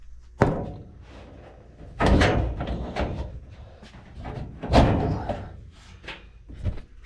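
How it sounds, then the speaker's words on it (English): Front door panel of a Burnham Revolution gas boiler, model RV4NSL-L2, lifted up and off at close range, giving several sharp metallic clunks and knocks spaced a second or two apart, with no talk. "This door literally lifts up and out, nice and easy."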